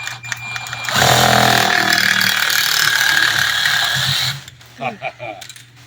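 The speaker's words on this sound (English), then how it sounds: "Never cut mullet with a sawzall." A Sawzall reciprocating saw cutting through a whole mullet, with a loud, harsh buzzing rattle that runs steadily for about three seconds and then stops, followed by a few softer knocks and handling sounds.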